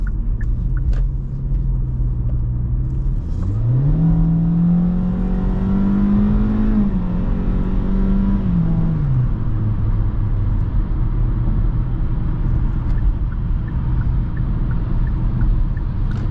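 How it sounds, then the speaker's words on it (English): A 2024 Kia Forte's 2.0-litre naturally aspirated four-cylinder engine revs up steadily as it accelerates on a highway, the rising engine note riding over constant road and tire rumble. "Let's go ahead and do another acceleration."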